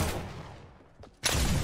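A booming gunshot in a video game bursts out loudly after a fading echo from an earlier shot, sharp and close.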